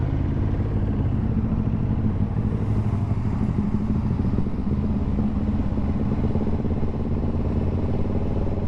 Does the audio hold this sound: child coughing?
no